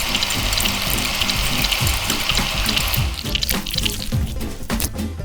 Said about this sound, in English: Then pour some water in.